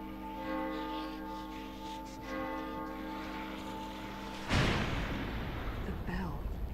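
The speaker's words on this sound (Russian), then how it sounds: "Они идут на звук колокола." Bell tolling in the horror video game The Evil Within: The Assignment, a sustained resonant ringing hum with overtones, followed by a sudden loud rumbling burst of noise near the end.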